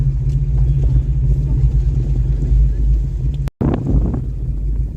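A Ford Mustang engine idles steadily after a radiator repair, a loud, continuous low rumble with wind buffeting the microphone and a brief dropout partway through.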